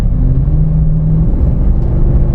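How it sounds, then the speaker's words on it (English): LS-swapped Jeep JK with an automatic transmission, heard from inside as the engine hums steadily and rises briefly under light throttle during a downshift, a loud, continuous low rumble with no talking. "Let's give it a little throttle, let it downshift."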